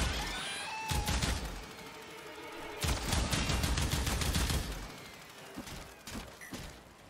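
Gunfire rings out during a Warframe boss fight against Mutalist Alad V, coming in several loud rattling bursts separated by brief lulls, with scattered single shots toward the end.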